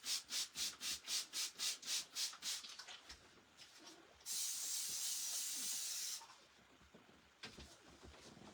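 A spray bottle spritzing a layered transfer, about ten quick rhythmic pumps in a row, then one long steady hiss, then a few more short sprays, close and fairly quiet.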